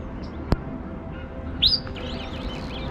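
Birds chirp and call outdoors by a bridge among fruit-laden trees in South Africa, with a few short tweets and a brighter trill against a quiet background hum, plus a sharp click.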